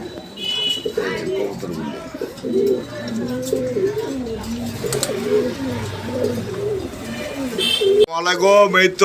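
Pigeons at a breeding farm coo in repeated rolling, throaty phrases, close and overlapping. A voice cuts in briefly near the end.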